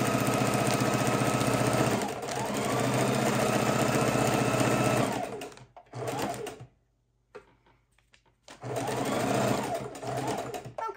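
A sewing machine stitching raw edge appliqué on a cauldron design with double sided fusible, running in a steady loud whir that slows, stops for a needle-down pivot with small clicks, then resumes.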